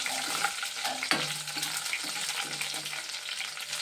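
Curry leaves crackle and sizzle in hot oil in a pan, a bright continuous frying hiss broken by a few sharp pops and the knock of a stirring spoon.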